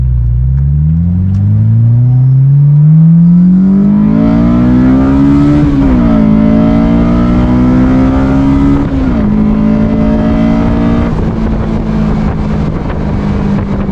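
A lowered Honda S2000 engine revs hard toward its high redline, rising in pitch through several steps with brief shift dips, very loud and close, with no talk.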